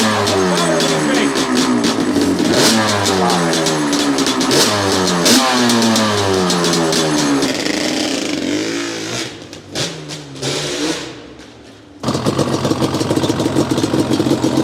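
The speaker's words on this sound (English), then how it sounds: "Why didn't Yamaha ever build this motorcycle?" A motorcycle engine revs hard and repeatedly on an icy road, loud and close, with throttle blips rising and falling, a brief drop-off, then a sustained high-revving run.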